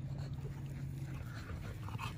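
Soft whimpering and yips from a male American Bully dog, close by and continuous for a couple of seconds over background noise.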